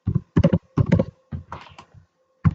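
Rapid bursts of typing on a computer keyboard, clustered keystrokes in quick groups separated by short pauses, close and crisp with no talking.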